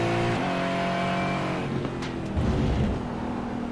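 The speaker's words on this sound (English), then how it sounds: "We'll go on board with the Aston Martin, shall we, and listen to it rumble away" Aston Martin V8 Vantage GT4 engine in the iRacing sim, a loud close onboard V8 rumble holding steady, then dropping in pitch and surging again as revs shift, with no voices.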